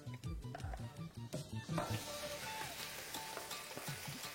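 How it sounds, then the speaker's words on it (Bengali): Marinated mutton for Kolhapuri mutton hits melted mutton fat in a pan with a close, steady sizzle. Some stirring and utensil clatter come first, then a bright continuous frying hiss holds through the rest. "মাটনের ফ্যাটটা একটু গলে আসলে আমি এখানে দিয়ে দেবো ম্যারিনেট করা মাটনটা"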